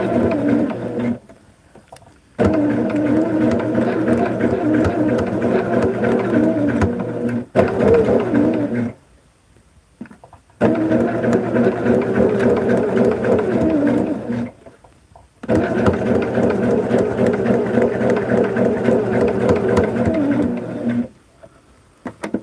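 Sewing machine stitching quilted placemat pieces together in close, loud bursts of steady motor hum, stopping several times for short pauses before starting again.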